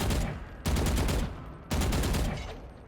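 Vandal rifle firing in the video game Valorant, two close, loud bursts of rapid automatic shots separated by a short pause, each burst fading with a brief echo.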